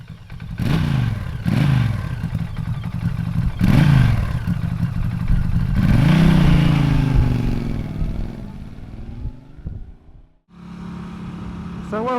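A Norton Commando 961 CR motorcycle revs in short, throaty bursts, then pulls away and rises through the gears up close before easing off and settling to a steady idle.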